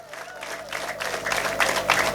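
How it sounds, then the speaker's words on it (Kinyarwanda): Crowd applause with cheering and ululation at a trophy presentation, a continuous clapping roar that swells louder toward the end. "tugiserebure twese n'amashyi menshi n'impundu nk'umutsinzi"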